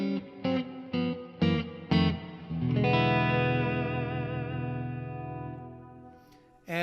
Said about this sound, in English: It's a real warm, round reverb that everybody seems to really like.